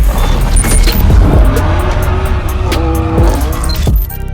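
A drift car at a drifting championship in Ireland roars loudly nearby, its engine revving and rising in pitch with booming exhaust and a rough, sustained growl before easing off at the end.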